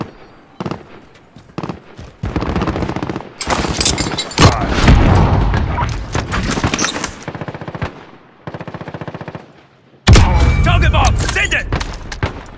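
Rapid gunfire and heavy explosion bursts from a precision airstrike killstreak in the game Call of Duty: Modern Warfare (2019), loud and sustained, with dense volleys, a short lull, then a fresh blast-laden barrage; game voices talk over parts of it.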